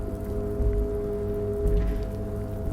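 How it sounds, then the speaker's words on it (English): Rain sets in over the streets of Disco Elysium, a steady soft patter of drops on surfaces under a low droning ambient hum, with no one talking. "And yeah, it's starting to rain."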